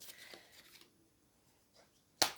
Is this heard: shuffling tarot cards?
yes